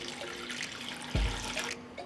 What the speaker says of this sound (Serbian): I zatim ću sipati vodu u šerpu do visine poklopca.